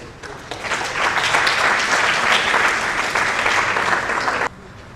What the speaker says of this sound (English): Let's all greet him with a round of applause.